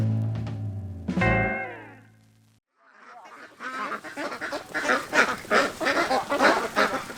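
Loud honking and quacking from a crowd of ducks in Phong Nha, Vietnam, starting with a few close calls and then building into a dense, noisy chorus.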